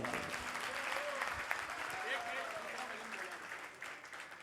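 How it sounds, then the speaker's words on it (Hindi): Applause at a devotional Hindi sankirtan gathering, a broad wash of clapping that holds steady for several seconds and then thins slightly, with a few voices and some musical tones faintly under it. "पर भाव भरा ताली बजा दो आप"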